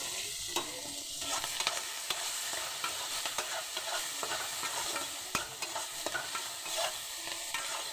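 Onions with salt sizzle steadily in a pan while a spoon stirs them, giving a continuous close frying hiss dotted with soft scraping taps, and no one talks.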